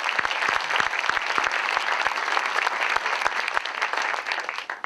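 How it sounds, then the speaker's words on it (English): A round of applause at an educational lecture on neuroscience and learning, dense sustained clapping from the audience with sharp individual claps standing out, fading slightly at the end. "And let's give them a round of applause."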